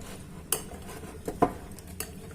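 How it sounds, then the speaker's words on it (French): A utensil stirs a cooked dough mixture in a bowl for a brioche des rois, giving a few scattered clinks and scrapes against the side at close range. "Donc je mélange et je vais laisser ça de côté refroidir."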